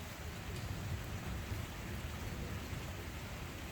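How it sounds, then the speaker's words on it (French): Heavy rain pours steadily during a strong thunderstorm in Pfastatt, a dense, unbroken hiss of drops that holds at an even level throughout. "Là, maintenant, c'est de la pluie, de la pluie,"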